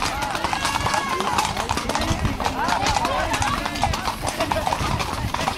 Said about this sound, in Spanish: Aquí llegan los caballos.